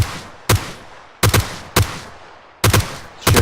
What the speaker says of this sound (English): Shifter tries to take shots at him, but most seem to be missing.